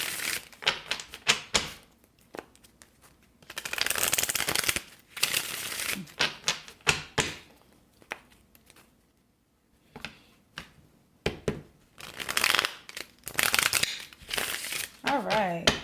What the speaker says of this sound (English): we're shuffling clarification cards for this reading